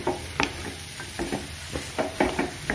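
Semolina halwa being stirred in a pan on a gas flame: soft, repeated scraping strokes at an easy rhythm over a faint, steady sizzle, with no talking.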